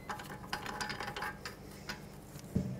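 Ratchet wrench loosening bolts on the rear wheel bearing hub of a 2003-2008 Toyota Corolla, a run of quick mechanical clicks and ticks at close range with a sharper knock near the end.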